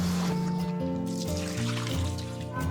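Peeled sea shrimp being gently rinsed in water, with a continuous close trickle and slosh of running water and faint tonal hum beneath, no speech.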